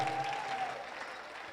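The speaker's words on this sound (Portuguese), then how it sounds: "Vamos aplaudir o nosso baterista," A church congregation applauds the drummer during a worship service, a steady wash of clapping at moderate distance that fades slightly, with a faint sustained tone at the start.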